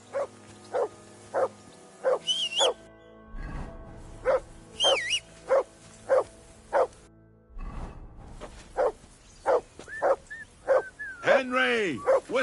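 A dog barks in evenly spaced, close, loud bursts, broken by a few short pauses and some whining yips, with voices talking over parts of it.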